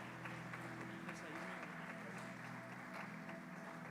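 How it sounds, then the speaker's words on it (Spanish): A church congregation claps together, a steady, even wash of applause sustained throughout, heard fairly faint and somewhat distant. "Denle un fuerte aplauso al Señor, amado."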